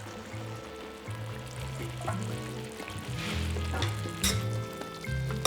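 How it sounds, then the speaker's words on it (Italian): Pasta with guanciale tossed in a hot frying pan, a loud continuous sizzle with stirring and scraping clatter, over low background music. "Arriva la nostra pasta, la quale si è fatta già 3/4 di cottura in pentola, ma non può mancare il suo appuntamento in padella."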